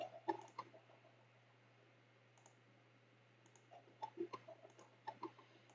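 Quiet computer mouse clicks come in small clusters, a few at the start and several more near the end, as programs such as command prompt and notepad are opened, with no talking.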